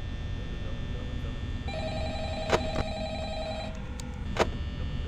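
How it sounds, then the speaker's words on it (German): A telephone rings in the Five Nights at Freddy's horror game, a steady electronic ring tone with a couple of sharp clicks over a constant low droning background hum. "unser Telefon klingelt wieder"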